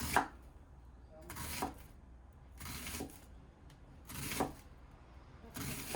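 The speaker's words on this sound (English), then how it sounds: "going to slice the onion. I think it's better if I slice it this way" A knife slices an onion thinly in a noisy restaurant kitchen in Lahore, with bursts of crisp cutting strokes arriving in several evenly spaced groups over a quiet background hum.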